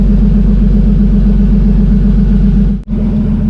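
Turbocharged BMW E30 engine idling steadily just after its first start, a loud, close, even low rumble with a brief dip near the end, no talk.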